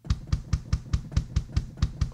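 A kick drum with its high end boosted by EQ for a bright, punchy click, struck ten times in a steady fast rhythm, each hit a deep thump topped with a crisp attack, alone and close.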